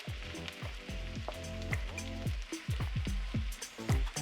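About one and a half onions fry in oil in a pan for lamb rogan josh, a close, steady sizzle and crackle with recurring squeaky, falling chirps over it.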